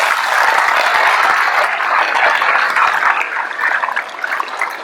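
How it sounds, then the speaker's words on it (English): Graduation crowd at Port Barre High School applauds the class of 2025's top ten seniors, a loud, sustained wash of many hands clapping that tapers slightly toward the end. "Please give them a well round of applause again."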